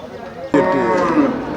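A cow lets out a loud, close, drawn-out moo at the Melapalayam cattle market, bursting in suddenly after a moment of low background murmur and holding to the end.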